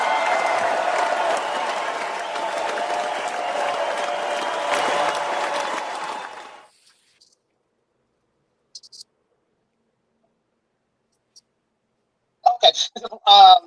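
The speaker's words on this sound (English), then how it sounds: "Give him some claps" Studio applause on a morning radio show, a steady burst of clapping for several seconds that fades out, followed by silence and then short bits of speech near the end.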